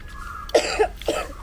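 Three short, husky coughs in quick succession, close and fairly loud, with no talking around them.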